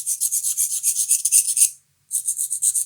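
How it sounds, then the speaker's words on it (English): A needle point fishing hook is sharpened with quick, rhythmic rasping strokes, close and crisp, that stop briefly and then resume. No one speaks. "for needle point hooks, sharpen it because you'll need it"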